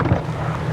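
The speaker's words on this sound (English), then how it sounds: "it's a little windy today." Wind buffets an outdoor microphone beside a farm pond, a steady low rumbling roar with gusty swells that stays loud and close through the short stretch, with no other sounds standing out.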